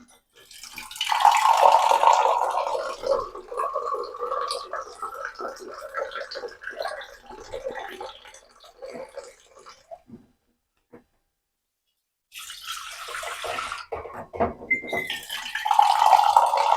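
Water is poured into a cooking pot for making ragi mudde, a steady splashing rush for about ten seconds, then a pause before more pouring resumes.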